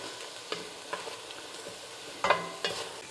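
Garlic with peppers and onions in a hot pan for sloppy joes, crackling quietly beneath a few distinct spoon scrapes and stirs, the loudest knocks falling near the end, with no one talking.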